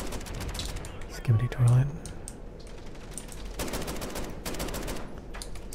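Gunfire from the video game Call of Duty rattles in bursts of rapid shots, moderately loud, under frequent excited talking from a player.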